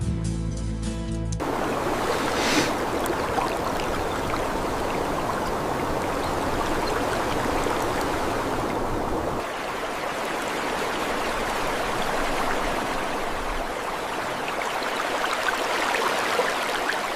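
A river runs with a gentle current, a steady close wash and trickle that shifts slightly in texture partway through, with no voices.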